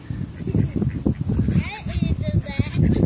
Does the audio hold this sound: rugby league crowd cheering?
no